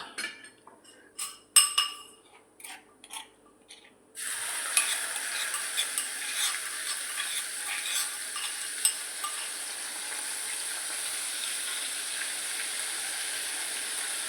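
Ginger-chili paste is stirred in a pan for a cashew paneer curry: a few clinks and scrapes of a spoon, then a steady, moderately loud sizzle that continues to the end.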